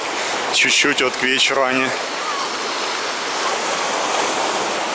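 Sea waves wash onto a beach at Alanya, Turkey, a continuous broad surf roar, with someone speaking over it at the start before the waves continue alone.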